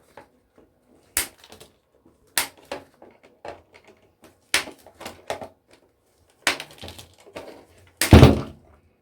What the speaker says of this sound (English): Just need to cut these wires in here.